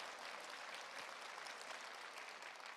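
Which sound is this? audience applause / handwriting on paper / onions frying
audience applause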